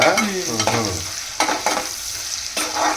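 Dried prawns sizzle in a pan with ridge gourd, a steady frying hiss broken by several sharp stirring scrapes of a spoon.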